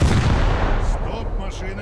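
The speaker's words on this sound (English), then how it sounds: "Let's see if we can hit it with the main gun." A warship's main gun fires in a naval video game, heard as a single heavy, booming blast with a long low rumbling tail that slowly fades, loud and close.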